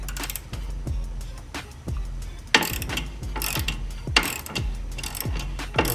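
A ratchet works a nut loose on the rear suspension of a G37, giving a close series of sharp clicking bursts repeated at irregular intervals with brief pauses between strokes.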